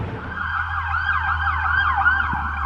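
Sirens from several fire engines and ambulances wail and overlap as they pass through a dimly lit Canadian city at night, loud and sweeping up and down over a low traffic rumble.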